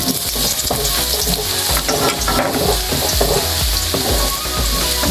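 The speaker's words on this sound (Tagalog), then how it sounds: "Ito na, mainit ng ating mantika. Lalagyan na natin ang ating bawang." Garlic sizzles and fries steadily in hot oil for a Bicol Express dish, a loud, dense crackle running unbroken throughout with a few stirring scrapes and no voices.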